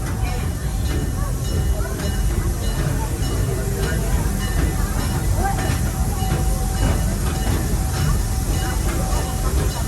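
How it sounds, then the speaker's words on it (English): Busch Gardens Serengeti tour train pulling out of its station, with a steady loud rumble and rattling wheels, faint hiss, and a public-address voice speaking over the noise throughout. "as we depart the station"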